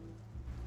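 Steady rain falling in the rainy night streets of the video game Chicken Police, a continuous soft low patter with no voices.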